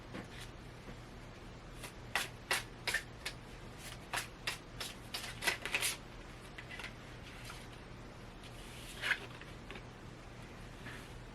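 Tarot cards riffle and slide in a series of quick, crisp shuffles, clustered in the middle with a last flick near the end, close and fairly quiet with no talk.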